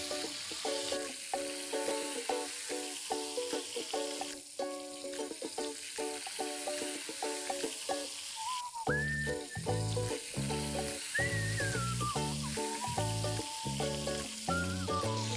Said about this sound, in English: give the fish a flip and fry it on the other side for another minute or so.